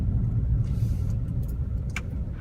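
A car rolls slowly into a parking spot at a rest stop, its engine giving a low, steady rumble close by, with a few faint bumps and clicks near the end and no talk.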